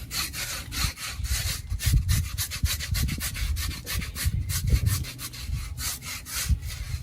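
Hair is scraped off a wet hog skin during hog cleaning with repeated rough, rhythmic strokes, close and moderately loud, without talk.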